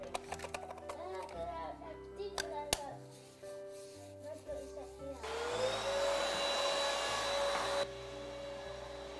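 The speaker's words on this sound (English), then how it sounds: "Hoover it then." A Hoover vacuum cleaner starts up in a family home and runs loudly in a steady whine after a stretch of children and adults talking, clatter and household handling noises.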